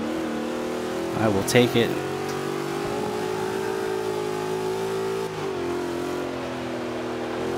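A rear-wheel-drive Ford Mustang engine in the video game Forza 5 revs and holds a steady droning pitch, with a brief voice speaking over it early on.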